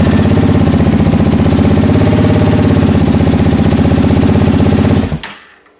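A 2015 Honda CB300F motorcycle engine cranking on a freshly installed battery, a loud, steady, rapid mechanical churning that runs for about five seconds, then cuts off abruptly and dies away.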